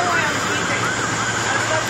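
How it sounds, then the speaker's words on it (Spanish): An emergency siren wails in repeated rising and falling sweeps during a fire evacuation at a Walmart store, steady but somewhat distant under a dense wash of crowd and room noise. "No son policías, oye la sirena."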